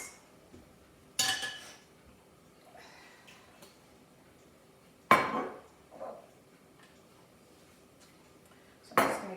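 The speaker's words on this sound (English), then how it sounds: "I'm just going to give this meat a little bit of a stir" Chicken meat stirred in a metal pan on a portable burner, three separate sharp utensil scrapes and clanks spaced a few seconds apart, with quiet gaps between.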